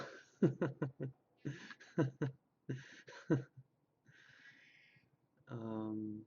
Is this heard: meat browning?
no